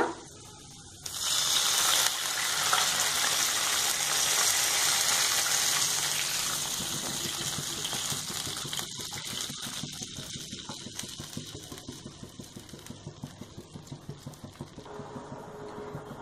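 Lentil and tomato stock water being poured into a pot of tomato rasam, a steady loud gushing stream that tapers into softer trickling and clinking, with no talking.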